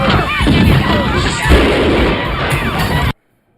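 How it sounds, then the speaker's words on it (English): Gunfire in a film scene from The Warriors (1979), a dense, loud burst of shots and crashing noise mixed with shouting voices, continuous for about three seconds before cutting abruptly to silence. "We see gunshots right here from one of them."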